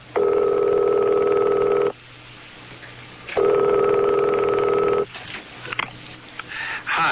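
Two long electronic telephone rings with a pause between them, loud and steady in an old radio drama, followed by the click and soft rustle of an answering machine picking up.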